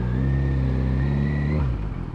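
A car engine pulls hard under acceleration, a loud close rising drone that drops in pitch near the end as the next gear engages.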